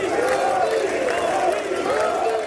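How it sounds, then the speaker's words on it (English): Crowd of lawmakers standing and applauding as Prime Minister Modi walks to the podium to deliver an address, a dense steady roar of clapping and voices with no break. "Lawmakers stood up and applauded as he walked up to the podium to deliver his address."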